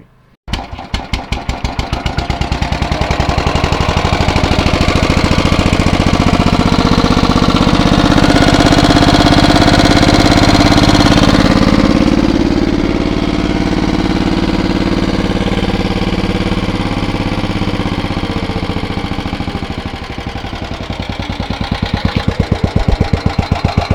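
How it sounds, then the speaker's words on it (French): A cold Staub tiller engine runs just after starting on a frosty day, a loud, close, continuous mechanical chug that holds steady, dips slightly in strength, then picks up again toward the end. "C'est bon, là il est bien démarré."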